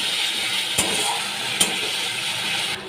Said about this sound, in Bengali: জিরে বাটা দিয়ে দিলাম, ভালো করে মশলা আমি কষিয়ে নিচ্ছি।